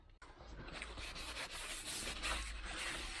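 Steady, close rubbing and scrubbing as an old cloth is worked over a brake disc from a Clio 2, a continuous dry friction noise that holds at an even level for the whole stretch.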